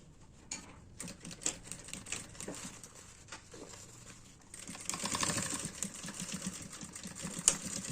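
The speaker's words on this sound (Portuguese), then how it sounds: "E vamos passar uma costurinha aqui." A sewing machine stitching the lining of a baby pouch, with quick irregular bursts of rattling stitches and small handling noises that grow denser and louder in the second half.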